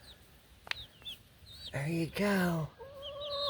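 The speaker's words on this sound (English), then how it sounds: "I think I have one more chicken" Backyard chickens, one wearing a homemade fabric saddle, cluck and squawk close by in several short bursts, with a brief louder call near the middle, while a person speaks to them softly.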